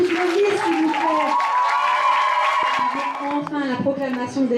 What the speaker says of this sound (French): Encore un tonnerre d'applaudissements pour toutes nos vies